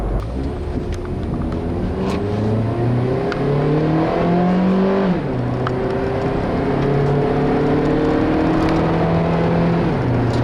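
A 2012 Honda Civic EX-L accelerates with the air conditioning running and econ mode engaged. Its engine drones and climbs steadily in pitch, sounding strained and sluggish, with no talking over it.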